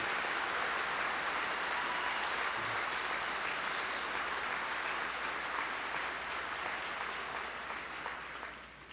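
Sustained audience applause at a public healthcare forum held at a college, a broad, even wash of many hands clapping that holds steady and then tapers slightly toward the end, with no voices over it.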